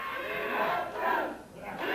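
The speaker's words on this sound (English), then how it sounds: "The crowd begins chanting, "We want Bruce!"" A wrestling arena crowd in St. Louis chants in a loud, sustained, rising and falling roar that fills the hall without pause.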